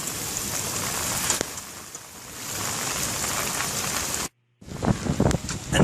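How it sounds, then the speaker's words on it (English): Heavy rain pours onto permeable pavement and nearby asphalt, a loud dense hiss of drops that dips briefly, then cuts out to near silence before resuming strongly. "It's really raining now"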